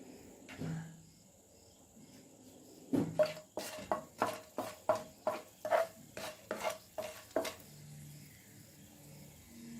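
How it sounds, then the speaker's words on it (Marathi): Whole spices go into a spoonful of hot oil in a pan for Kolhapuri misal masala. A spoon scrapes and stirs in a quick run of about a dozen rhythmic metallic taps over a faint sizzle. "ह्याच्यासाठी मी 1 चमचा तेल घेतले पॅनमध्ये. पहिल्यांदा आपण खडे मसाले घालू."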